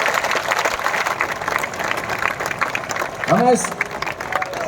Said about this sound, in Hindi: इनके लिए जरा एक बार जोरदार तालियां बजाइए जो 5 घंटे से यहाँ पे खड़े हैं